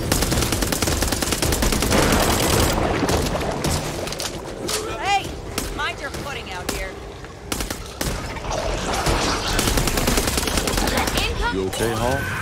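Rapid automatic gunfire and single shots from Back 4 Blood cooperative zombie-shooter combat, loud and continuous, with burst after burst, the mix thinning slightly midway, while voices call out over the shooting.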